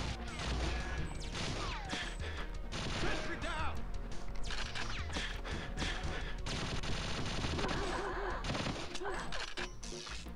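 Rapid sustained gunfire from a sentry gun in a Goldeneye 007 mod, dense crackling bursts layered with game music and effects, loud and continuous throughout.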